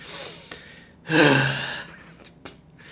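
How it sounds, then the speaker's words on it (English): Belladonna, a video game character in an RPG, lets out a loud, close breath that swells and fades over about a second, framed by a few faint clicks in an otherwise quiet room. "And as he says Alvaro Bianchi, you can just hear and see Belladonna just breathing, loudly"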